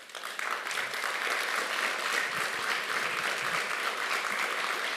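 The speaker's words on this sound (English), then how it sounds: "I would like to ask the audience to welcome our guests with a huge applause" Sustained applause from an audience welcoming guests at an African feminist panel conversation, steady and fairly dense clapping filling the whole stretch with no break.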